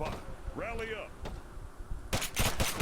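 Gunfire in the video game Arma 3 (Altis Life), a few sharp shots near the end, with a player's voice talking over game sounds beforehand.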